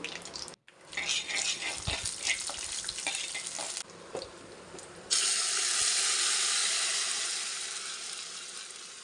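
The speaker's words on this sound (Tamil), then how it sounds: "எல்லாம் நல்லா பொறிஞ்சு வரட்டும்" Dried red chilies and curry leaves fry and sizzle in hot oil in a pan for a beef chukka, with stirring clatter early on and a steady loud hiss rising over the second half.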